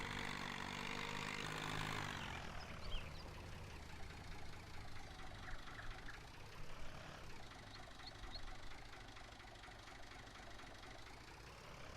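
Tractor engine idling in the Farming Simulator 19 game, a steady mid-to-low chugging hum that holds throughout, with a brief louder swell at the start.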